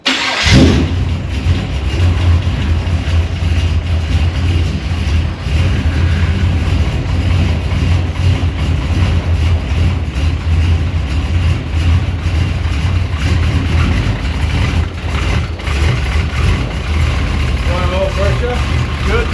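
Long-unused Holden VU car engine cranks and catches near the start, then settles into a steady, loud, close rumbling idle with a low throb throughout, while people talk intermittently over it.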